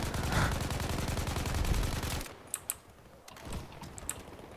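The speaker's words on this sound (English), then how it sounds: "I think I'm firing like some sort of grenade." Grenade launcher shots in Battlefield 5 multiplayer: a dense rattle of gunfire and mechanical clatter gives way to a few sharp, separate pops and thumps over a quieter background.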